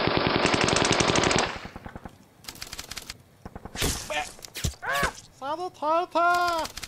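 Gunfire sound effect in a cinematic Bolt Action tabletop battle report, a loud sustained burst of automatic fire followed by scattered shots and impacts, with a voice shouting in between.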